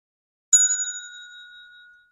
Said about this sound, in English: that bell rings.